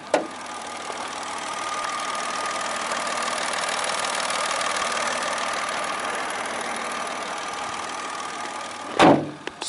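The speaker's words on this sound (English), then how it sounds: "Very quiet engine." A car engine idles steadily with the bonnet raised, a quiet, even mid-pitched hum running close by for the whole stretch, with a short knock near the start and a brief thump, like a door or the bonnet, near the end.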